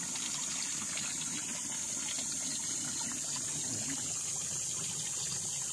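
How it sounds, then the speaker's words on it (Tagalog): Spring water welling from the ground beside a river on a farm lot flows without pause, a steady close rushing gush that stays even throughout. "Tuloy-tuloy ang agos ng tubig kahit tag-init."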